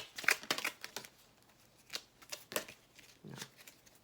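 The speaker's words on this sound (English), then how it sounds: "It's always a trip to try to shuffle these round cards" Soft, scattered rustles and taps as round oracle cards are shuffled by hand, irregular and close, with gaps of quiet between the bursts.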